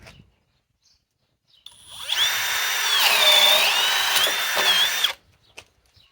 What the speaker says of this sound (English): Harbor Freight Hercules drill driver, 1200 inch-pounds,